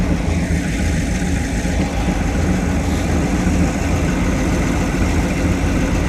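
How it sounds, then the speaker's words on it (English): A 1986 Trans Am's swapped LQ4 V8 engine idles steadily after a cold start following two months sitting, a low, continuous rumble, close by and fairly loud, with no voices. "I'll let it warm up for a few minutes. Idling good."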